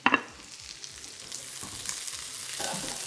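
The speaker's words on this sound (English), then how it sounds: "So we start with a squirt of oil, and I'm just gonna add my onions at this point." Onions fry in a squirt of oil in a hot pan with a few mushrooms, a close, steady crackling sizzle after a quick initial clatter, with stirring swells and no talking.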